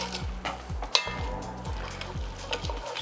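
Pasta, prosciutto and a splash of pasta water stirred together in a pot for a lighter carbonara, with a steady sizzle and repeated scraping, sloshing stirs that come in rhythmic pulses up close.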